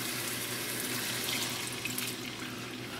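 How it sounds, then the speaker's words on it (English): Water pours steadily into a pan of beef empanada filling seasoned with taco seasoning, a continuous close, even splashing rush with no talk over it. "Adding a little water."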